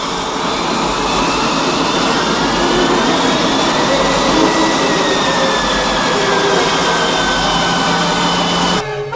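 Jet aircraft approaching to land too fast, a loud, continuous roaring engine whine close overhead that holds steady and then cuts off abruptly at the end.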